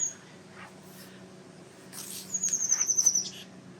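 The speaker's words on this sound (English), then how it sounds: "The birdies are in there singing." Small birds singing from inside a flowering shrub with pink blossoms during a spring outdoor walk, a quick run of high chirps near the end over faint background hum, fairly close but quiet.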